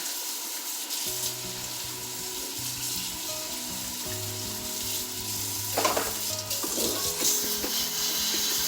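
Running water from a kitchen faucet splashes into a sink as containers are rinsed out, a steady hiss with a few clunks and sloshes from the containers, close and fairly quiet with a low hum under it.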